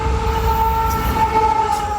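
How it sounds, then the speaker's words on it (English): A fairly fast, short freight train rushes past close by, a loud steady rumble with sustained high metallic squealing tones running throughout. "As far as freight trains go, this was a fairly fast one, and not very long."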